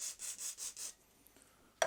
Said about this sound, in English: I'm just trying to get most of the surface rust off.